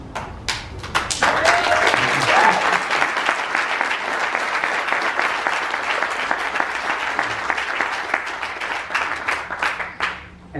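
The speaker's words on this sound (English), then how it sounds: "And that applause is for yourselves." Sustained applause from a large conference audience at a keynote, steady clapping that swells early and holds for about ten seconds before fading out.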